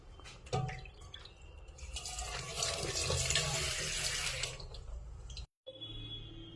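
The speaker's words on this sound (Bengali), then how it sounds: "চলো, বাটিটা ধুতে হবে" A bowl being washed under a running tap in a home, with splashing water, clinks and a brief gap before the stream resumes, fairly close and moderately loud.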